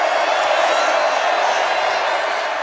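Fans at Baylor's home football game against Oklahoma State fill the stadium with a dense, unbroken wall of cheering, loud and sustained for the whole stretch.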